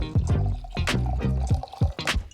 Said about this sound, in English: we're just gonna pour a little bit of wine to begin our journey